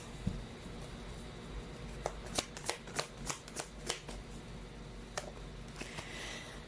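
A deck of tarot cards is shuffled close up in a card-reading session, with a run of quick riffling slaps and flicks, some in rapid succession, others spaced out, against a quiet room.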